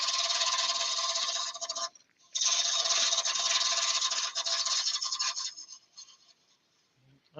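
Saw steadily rasping through a laburnum log slice, a loud continuous cut broken by one short pause near two seconds, then fading to quiet near the end.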